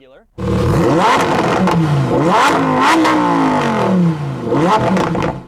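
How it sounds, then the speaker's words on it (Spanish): A Lamborghini Huracán engine in normal mode revs hard several times in quick bursts, rising and falling in pitch, loud and close, with a throaty exhaust roar. "Voy a dejar que escuches el coche primero en modo normal y luego en modo Corsa"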